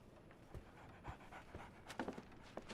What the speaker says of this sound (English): Oh, I was hearing a dog.